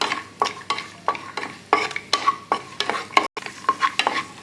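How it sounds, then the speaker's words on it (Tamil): Cashews frying in hot ghee for moong dal payasam, a spoon stirring and scraping the pan in a quick steady rhythm over a faint sizzle, close and clear, with no talking. "இப்போ இந்த முந்திரி நம்ம வறுத்து"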